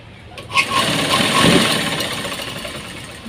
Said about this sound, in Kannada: ಇದು ಮಿಷಿನ್ ದೇ ಸ್ಟಿಚ್ ಮನ್ಪುದು